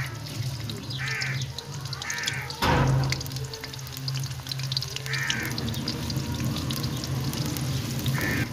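Two onions hitting hot ghee in a kadhai, a sudden loud splash of sizzle followed by a steady close crackling fry, with faint birdcalls in the background.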